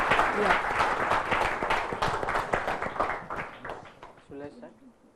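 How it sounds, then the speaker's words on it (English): An audience applauds to welcome a presenter at a business English course event, dense clapping filling the room loudly and then thinning and fading out toward the end. "a round of applause. Yeah. Let's welcome Sachin."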